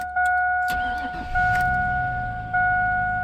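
A 2002 Chevrolet Silverado truck cranks and fires up, a sharp starter whir giving way to a rumbling idle, while steady warning chimes repeat over the engine noise.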